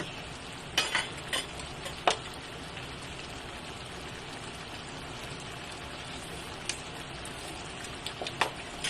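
A spoon stirring creamy beef with mushrooms and sugar in a pan, a steady soft sizzle with scattered scraping clicks and taps of the utensil against the pan.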